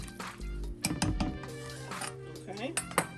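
Spoon stirring food in a pot while making seasoned yellow rice and pot liquor at a home brunch; irregular clinks and scrapes of metal against the pot, close and moderately loud, with faint talk nearby.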